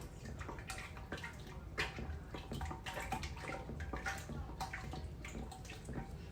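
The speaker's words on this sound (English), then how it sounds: "I just added sugar to this mixture. So I'm stirring it a little bit longer than what I would normally stir" A spoon stirs a sugared, fermenting friendship cake batter in a bowl, giving soft, wet sloshing and scraping sounds in a steady, quiet rhythm close by, with faint clinks.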